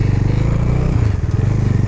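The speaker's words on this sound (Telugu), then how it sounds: "ఫైనల్లీ అయితే బండి ఆన్ అయిపోయింది" A motorcycle engine idles close by after being restarted following a drained battery, giving a steady, low, rapid putter with a faint rattle and no talk over it.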